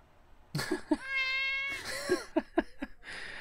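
Cats in a video game meow loudly and close by, a long drawn-out wail followed by several short mews, with no talking.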